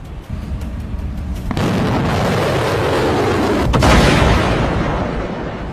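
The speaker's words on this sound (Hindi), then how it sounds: "धमाके दर धमाके, मिसाइलों के, रॉकेट के" Missile and rocket explosions from an Iran–US attack: a sustained heavy rumble punctuated by two sharp booms, loud and close, with the roar swelling and fading afterward.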